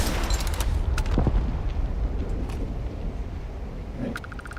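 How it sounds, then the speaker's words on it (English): Grenade launcher fire in the video game Starfield during a heavy firefight, a few sharp reports followed by rumbling booms amid ongoing combat noise, moderately loud. "Grenade launcher."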